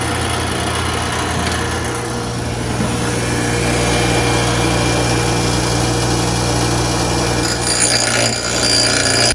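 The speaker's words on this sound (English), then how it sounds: "We're gonna use our grinder." A grinder runs continuously, grinding down a transmission case part, a loud steady high whine with a constant low drone throughout, unbroken by talk.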